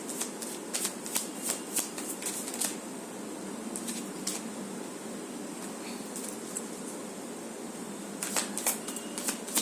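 Tarot cards are shuffled and drawn close up, with bursts of crisp riffling and snapping card flicks clustered at the start and end and sparser taps in between, over faint room hiss.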